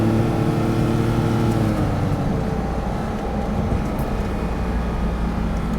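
Steady road and engine drone inside a Porsche sports car on the move, a continuous low rumble with tonal hum that fades into broadband tire noise, no voices.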